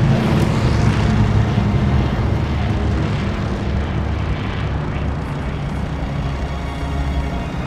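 Airplane engine in Call of Duty Vanguard, a loud continuous propeller roar and rumble filling the scene without a break.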